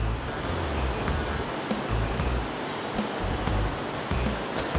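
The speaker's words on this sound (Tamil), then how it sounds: "ஸோ பேன் நல்லா ஹாட் ஆகிடுச்சு, இந்த ஸ்டேஜில் நம்ம ரெடி பண்ணி வச்சுருந்த பேட்டரை இதில் ஊற்றிக்கலாம்." Nutella pancake batter poured into a hot pan gives a continuous, close, dense sizzling hiss that stays fairly even throughout.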